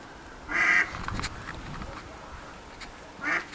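Ducks quack as a group of birds comes in, two loud nasal calls a few seconds apart standing out over faint background shuffling and quieter chatter.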